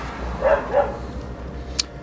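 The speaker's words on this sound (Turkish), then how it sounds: "İçeride köpek mi var? Bana mı öyle geliyor da." Inside an abandoned house with a roof close to collapse, a dog gives two short, muffled barks from somewhere out of sight, quiet against a low background hum.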